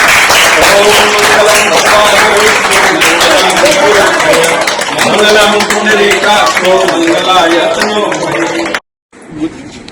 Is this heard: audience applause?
yes